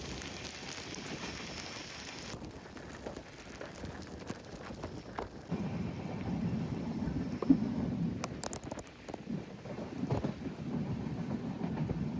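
The Mandovi Express runs along the Konkan Railway with a rolling rumble, rhythmic wheel clatter over rail joints and scattered metallic clunks, heard from inside the train at moderate level and growing heavier midway, with no voices.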